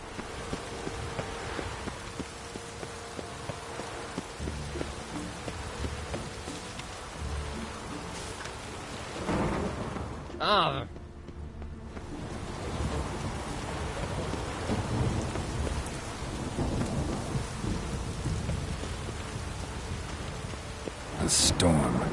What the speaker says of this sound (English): A storm, damn it.